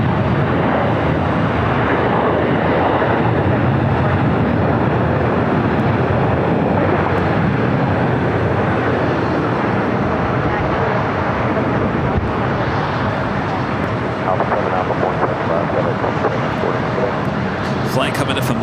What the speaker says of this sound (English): FedEx 767 touching down at 25 left.